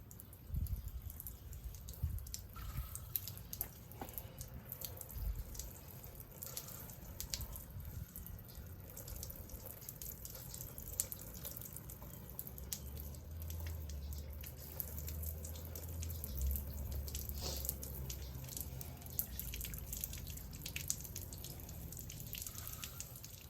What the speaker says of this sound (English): Just water it right off.